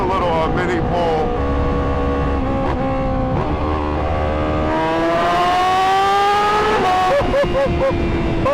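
A Honda Fireblade motorcycle pulls hard over a small bridge, engine note climbing steadily through the gears in a loud, continuous whine, with wind rush and a voice speaking over part of it.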